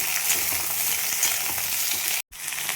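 Tomatoes frying in a pan, giving a steady, close hiss and crackle with light stirring that breaks off for a moment near the end.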